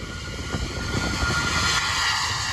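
A Cargolux jet airliner with Rolls-Royce engines roars past at Miami International Airport, a loud, steady broadband engine rumble heard alone from fairly close.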